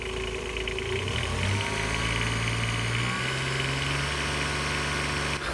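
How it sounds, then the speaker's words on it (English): A supercharged Kubota diesel engine in a Honda idles and then revs up, its pitch rising and holding steady with a low rumble and mechanical whine, fairly close. "Let's see what happens if I give the engine some revs"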